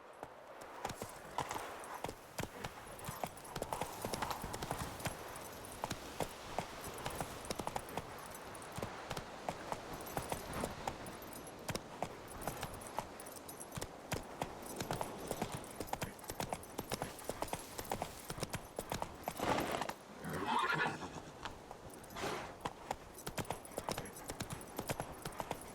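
Horse hooves clip-clopping at a steady gallop in The Witcher 3, a continuous rhythmic pounding at moderate loudness with game ambience and an occasional whinny.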